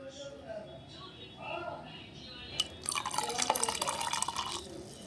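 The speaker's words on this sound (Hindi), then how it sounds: "अब उसमें डालूँगी दूध," Milk splashes and trickles into yogurt in a kitchen for lassi, the pouring starting partway through as a bright, close liquid gurgle after a quieter stretch with faint voice-like murmurs.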